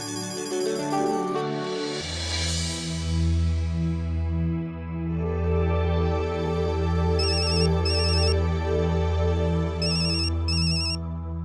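A telephone ringtone in a Hindi TV sitcom plays a continuous loud melodic electronic tune, with repeating high beeping tones layered over a steady musical pattern, no talk.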